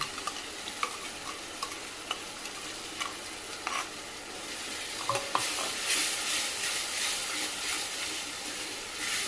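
Ground masala paste and tomato stirred in a pan for a dried oyster dish, with soft scraping strokes and faint sizzling throughout, a few sharper clicks of the spoon, and a steadier hiss building toward the end.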